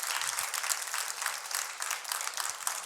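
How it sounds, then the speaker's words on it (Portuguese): Church congregation applauding during a Pentecostal service: steady, dense clapping from many hands filling the room, fairly even in loudness with no voices over it. "Vamos aplaudir o Senhor por esta palavra,"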